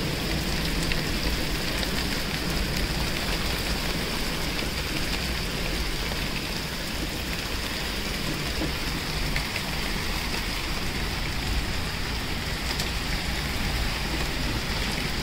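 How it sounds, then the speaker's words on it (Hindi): Heavy rain with hailstones pours down in Punjab, a dense, continuous hiss of falling water and pattering hits, steady and loud with no talking. "कितनी ज़्यादा तेज़ बारिश और नाली ओले करने शुरू हो गए।"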